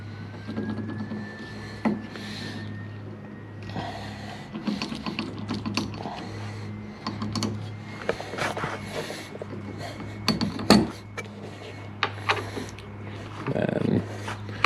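Screws are driven tight into metal brackets for a car mirror relocation, with ratcheting clicks, scraping and rubbing of the tool and hardware. The sounds come in short, irregular bursts at close range while a person talks over them.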